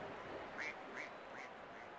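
Cartoon duck quacks from the RC24 cricket video game, played as a batsman walks off out for a duck: three or four short nasal quacks in quick succession, fairly faint over a low background.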